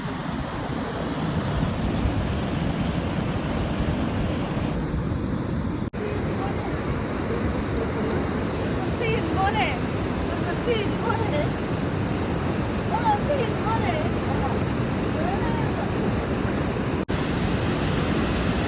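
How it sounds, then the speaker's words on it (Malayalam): A waterfall on the Kaveri River near Mysore in Karnataka gives off a steady, unbroken rushing roar throughout, with faint voices occasionally audible beneath it. "നല്ലൊരു വെള്ളച്ചാട്ടം വാട്ടർഫോൾസ് ഉണ്ട് ഇവിടെ"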